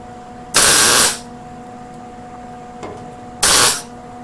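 Tack welding hood louvers on a 1967 Chevelle: two short bursts of harsh hissing crackle, each about half a second, a few seconds apart, with a faint tick between them and a low steady hum behind.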